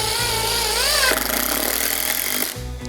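A SKIL 12-volt impact driver whirs steadily while driving a fastener, its motor tone rising into rapid hammering impacts for about a second and a half before winding down abruptly near the end.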